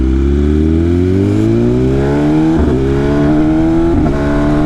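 A Lamborghini Urus SUV engine revs up with a steadily rising harmonic drone, loud and close, with brief shifts near the third and fourth seconds before it keeps climbing.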